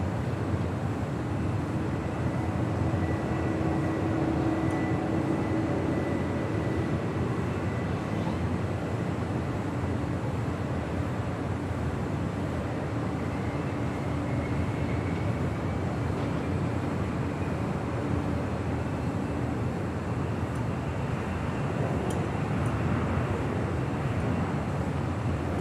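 A United Boeing 777 heavy landing on runway 25 left at Los Angeles International Airport, a steady broadband jet roar heard from a distance, constant and unbroken throughout.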